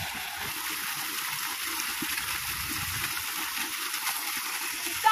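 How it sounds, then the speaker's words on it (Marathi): Irrigation water flowing across grass in a farm field, a steady soft rushing and trickling heard at a moderate distance, fairly quiet and continuous. "ताई तिकडे पाणी धरतात गवताला घासाला पाणी चालले"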